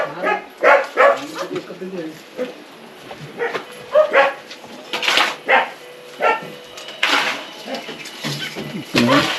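A dog whimpers and gives short barks and yips in bursts near the microphone, while people talk nearby.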